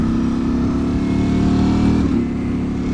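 A brand-new 2023 Ducati Panigale V4 SP2 with a dry clutch runs with a steady, loud, close engine drone that holds for a few seconds and shifts pitch slightly near the end, with no talk over it.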